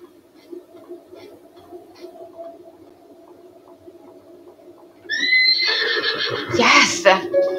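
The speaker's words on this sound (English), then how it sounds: "Calm down, little horse." Horse neighing in the video game Zelda: Breath of the Wild, a loud whinny bursting in after about five seconds of quiet background game ambience, with a voice talking over it.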